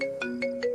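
A short electronic phone ringtone plays a quick repeating melodic pattern of bright tones, clear and close, with no voices.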